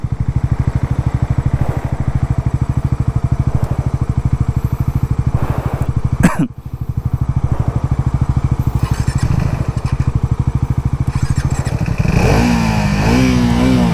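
A Triumph Speed 400 or Pulsar NS400 motorcycle engine runs loud and close with steady throttle rumble, then briefly cuts out around the middle and comes back, rising into revving toward the end.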